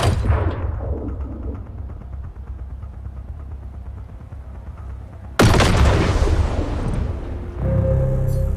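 Gunfire in the Hitman Sniper mobile game: rapid, rattling shots over a rumbling backdrop, then a sudden loud blast that gives way to a dense roar and a sustained tone.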